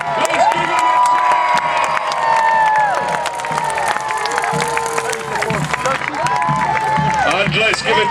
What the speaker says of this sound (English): let's give a cheer to our runner-up, our knight in gold from the east, Sir Hugh!